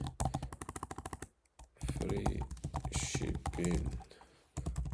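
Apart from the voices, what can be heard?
typing a prompt on a computer keyboard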